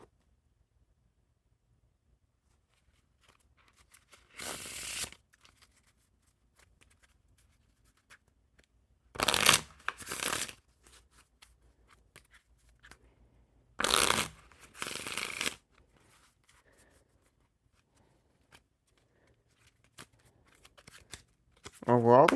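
Blue King Slayer playing cards by Ellusionist being shuffled in several short riffle bursts separated by quiet pauses, with a final burst at the very end; fairly close and crisp, with no talking over the shuffles.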